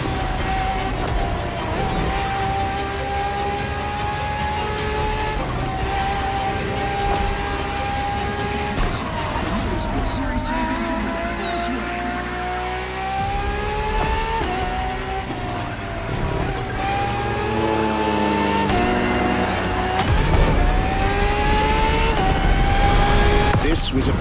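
A Ferrari FXXK supercar in The Crew Motorfest racing game, its engine loud and close as it revs in rising pitch sweeps, shifts gears and screams to a higher roar near the end, under narration.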